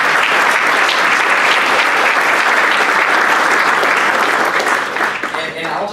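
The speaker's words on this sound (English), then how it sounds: "please, let's give them another round of applause" Rotary meeting attendees applaud the Rotary Honor Scholar students, loud, dense clapping from a full room that holds steady and then thins out near the end, with a voice beginning under the last claps.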